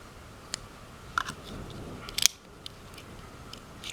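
A retro switchblade with an oiled slide-and-swivel mechanism gives faint, scattered metallic clicks and a scraping slide, closing in a sharper double click near the middle against a quiet background.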